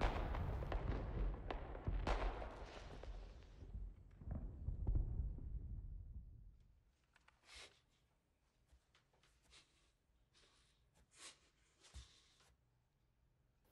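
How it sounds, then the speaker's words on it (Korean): Fireworks bursting in a film scene from A Quiet Place Part II, a dense run of loud booms and crackles for several seconds, then fading to sparse, faint distant pops and crackles over quiet background. "마커스가 쏘아올린 폭죽을 보고 집으로 돌아오는 레건과"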